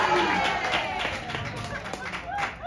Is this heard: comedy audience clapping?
yes